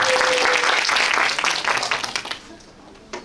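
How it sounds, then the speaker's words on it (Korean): Loud applause from students at a high school student council orientation session, a dense burst of clapping that fades out over a couple of seconds into near quiet, with a few last scattered claps. "큰 박수 한번 부탁드립니다"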